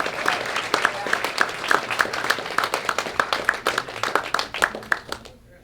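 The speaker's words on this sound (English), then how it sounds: "let's have a nice round of applause for Jerry De La Rosa" Applause at a high school athletic hall of fame ceremony as an award winner comes up, brisk claps from a sizeable crowd, lively and close, then dropping away abruptly at the end.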